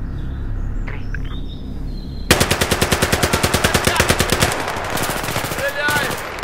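Sustained automatic gunfire in Battlefield 3 breaks out suddenly after a quiet stretch, a rapid, loud, evenly spaced burst of rounds that runs for several seconds before easing off.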